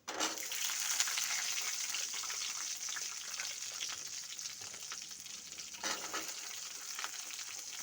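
Small shallots frying in oil for a fish curry, a continuous close sizzle with crackling pops and occasional stirring sounds, steady and moderately quiet with no talking.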